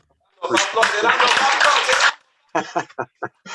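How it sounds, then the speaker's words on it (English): A short burst of applause from a small audience at a talk on mental health support for visually impaired people, roughly one and a half seconds of dense clapping, then a few scattered separate claps. "That got a lot of applause."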